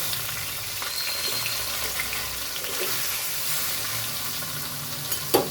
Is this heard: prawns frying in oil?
yes